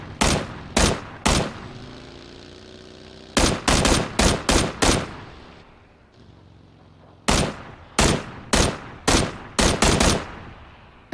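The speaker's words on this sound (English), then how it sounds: "I'm going to take some pot shots of this dune buggy" Gunshots fired at a dune buggy in the PUBG video game: loud, close single shots in three separate clusters of three to five rounds, each shot sharp with a short echoing tail and quiet gaps between groups.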